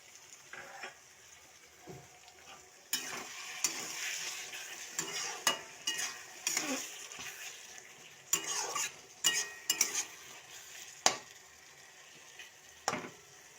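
Spice-washing water poured into hot oil for a Bengali fish oil curry, a loud burst of sizzling and frying that carries on with repeated clinks and scrapes of a spoon stirring in the pan, no voices.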